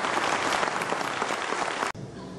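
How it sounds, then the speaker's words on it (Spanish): Dense audience applause at an electricians' union tribute and book presentation, steady and fairly close, cutting off abruptly near the end before a quieter wash of clapping resumes. "A todos ellos, un minuto de aplausos"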